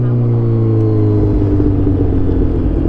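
A 2007 Suzuki GSX-R 600 motorcycle cruises along with a loud, close engine drone, its pitch dropping and the rumble thickening partway through.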